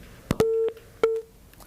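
A broken-off telephone call gives a busy tone: two short, clean electronic beeps, each about a quarter second long, separated by silence and preceded by a couple of clicks.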